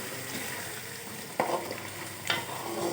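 Mint and coriander chutney stirred in hot oil, a soft continuous sizzle with two sharper scraping stir strokes, close and fairly quiet with no talk.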